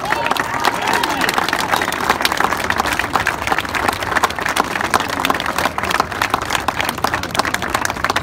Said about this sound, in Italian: Io voglio il più grande applauso di oggi dedicato a loro.